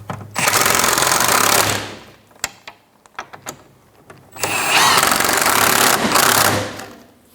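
Impact tool running in two long bursts on rear sway bar bracket bolts of a 2007-2012 Nissan Altima, loud and close, with a few clanks of hardware between the bursts.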